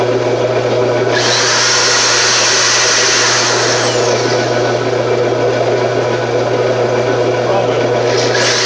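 A power drill whirs loudly and continuously, cutting metal, its high grinding whine rising after a second and holding steady over a low hum.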